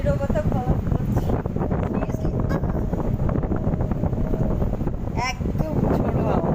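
Stormy wind gusts during heavy, chaotic rain, a constant loud rushing roar buffeting the microphone throughout, with brief faint voices in the background.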